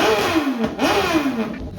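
BMW S1000 RR superbike engine revving in a showroom, a rising and falling rev with a second throttle blip, loud and close with no talking.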